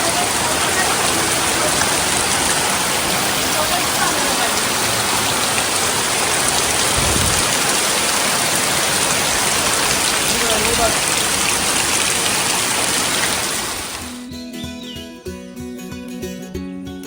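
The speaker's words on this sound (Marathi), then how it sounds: "आता पावसाने चांगला जोर पकडलाय आणि मस्त पाऊस आलाय, जरा जोरात आलाय" Heavy monsoon rain in Konkan pours in a loud, dense, continuous hiss for most of the clip, then cuts off abruptly as music takes over near the end.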